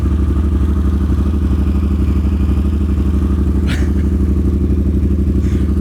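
A Harley-Davidson Sportster S with a Rowdy exhaust idles loud and close, a deep steady throbbing rumble with an uneven lumpy beat throughout, plus a brief higher squeak partway through and no talking.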